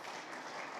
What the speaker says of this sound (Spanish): Vamos a darle un fuerte aplauso a los dos que han estado con nosotros.